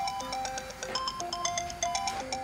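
A mobile phone rings in a hospital operating room, playing a bright, repeating melodic ringtone that loops steadily and clearly with no one speaking over it.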